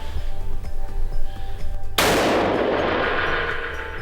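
A single sharp, loud report from a Remington 783 rifle fired while hunting roebuck bursts in after a quiet stretch, then rings and decays slowly across the remaining seconds, with no talk.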